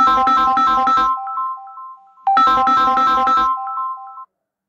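A phone's ringtone plays twice, a bright repeating electronic melody in two loud bursts separated by a short gap, close and clear with no talking over it.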